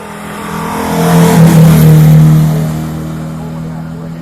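Mercedes 190 rally car with a Cochrane-made cylinder head pulling away from the start line at a classic hillclimb event, engine note rising and swelling loudly over a couple of seconds before easing back into a steady drone.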